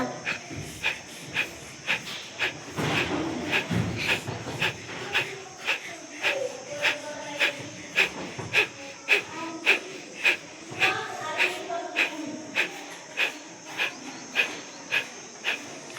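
Rhythmic forceful exhalations of kapalbhati pranayama breathing, a steady train of short sharp puffs through the nose, close and clear, with a voice speaking softly beneath them for part of the time.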